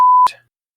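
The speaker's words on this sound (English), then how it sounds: "Keep adding those beeps, Dracofunk." A loud, steady electronic censor beep, a single pure tone lasting about a quarter second, cut off by a short burst of clipped noise and then silence.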